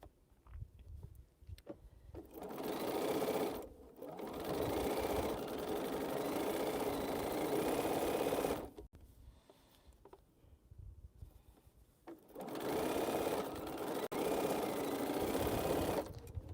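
A sewing machine runs steadily while rows of a cotton quilt are stitched together, its close, even whirring motor going in long runs broken by brief stops and restarts.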